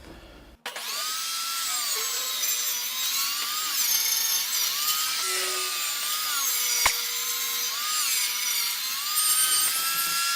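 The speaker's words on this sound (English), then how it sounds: "Pull it out and then run it back through and widen out the saw kerf." A table saw runs a second pass through a board to widen the kerf, its steady whine and cutting noise sustained for about ten seconds after a sharp start, loud and close with no talking.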